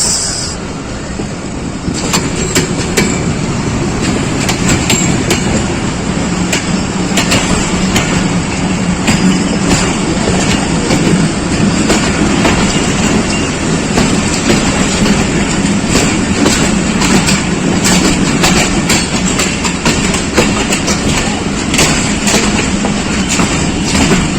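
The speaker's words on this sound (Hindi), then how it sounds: "लोकोमोटिव ZCU 26412 के साथ जाफर एक्सप्रेस।" Pakistan Railways Jaffar Express hauled by locomotive ZCU 26412, a steady loud rumble of rolling stock with rhythmic wheel clatter throughout, heard close and continuous with no voices.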